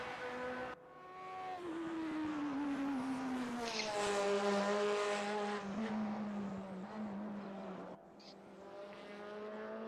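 A racing video game plays a race car engine revving through rising and falling gear changes, a loud, steady whine of harmonics with shifts and brief dips, while someone talks over it.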